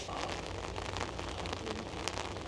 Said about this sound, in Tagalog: Diyos maulan